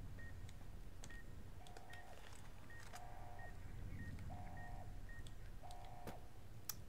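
Proximity mines in Fallout New Vegas give off short electronic beeps, first in quick sparse chirps and then in four repeated tonal bursts spaced about a second and a half apart, heard alone over a low background hum.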